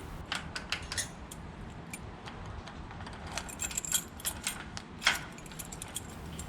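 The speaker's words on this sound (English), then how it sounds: "Now let's bring the key vertically and test the lock to the key." A key jiggles and clicks in a Kwikset Smartkey door lock, a series of quiet metallic taps, jangles and scrapes with one sharper click near the end, heard close with no talking.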